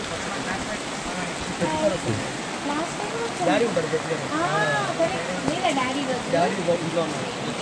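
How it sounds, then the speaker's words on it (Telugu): Heavy rain pours down in a steady, dense hiss during a cyclone at Srisailam, with people talking indistinctly underneath throughout. "బాగా వర్షం"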